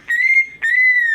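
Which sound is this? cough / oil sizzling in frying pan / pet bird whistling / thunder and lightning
pet bird whistling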